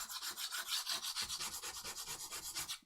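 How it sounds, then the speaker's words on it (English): Dried hot glue is scraped off a vinyl-covered surface in quick repeated strokes, a rhythmic rasping scratch, close and fairly loud, with no voices. "This is the great thing about hot glue, is you can just scrape it all off."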